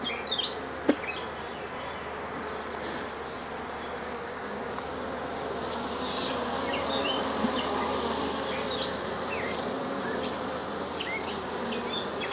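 Honeybees swarm and buzz around an open hive during a beekeeping inspection, a dense steady drone close by and alone, with scattered higher whines of individual bees flying past.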